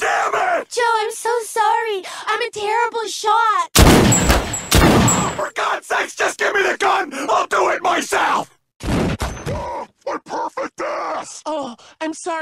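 A handgun fires loudly in a Family Guy cartoon scene, with sharp, booming shots breaking up animated voices that shout and groan.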